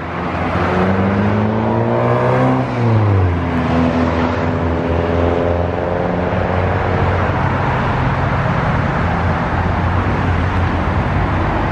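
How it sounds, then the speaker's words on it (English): Road traffic passes steadily, a loud continuous engine drone whose pitch sweeps up and down as vehicles go by, with no talking. "Look at the traffic never stops down here."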